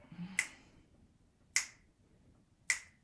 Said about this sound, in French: La danse et le claquement de doigts